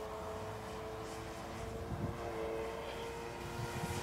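Hangar 9 Van's RV-4 30cc RC airplane in flight, a steady engine drone holding at moderate distance throughout, with slight swells in loudness and no voices.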